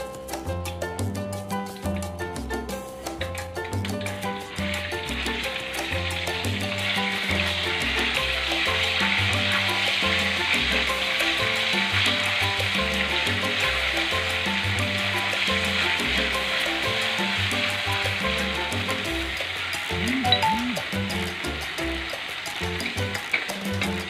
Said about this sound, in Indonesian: Sekarang kita langsung goreng cabenya ya.